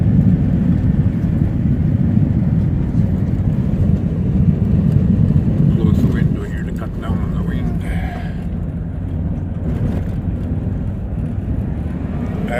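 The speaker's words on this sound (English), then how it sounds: "There she goes, see? She downshifted into second or third gear." Cab of a 1993 Chevy 4x4 pickup driving on a highway, a loud steady low engine and road drone that drops in tone as the transmission downshifts partway through, with someone talking over it.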